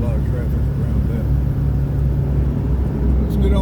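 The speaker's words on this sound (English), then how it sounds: "Like traffic's a little bit better right along here." Road traffic rumbles steadily past a car driving away from a busy mall area, a continuous low engine and tire drone throughout with no distinct individual vehicle passes.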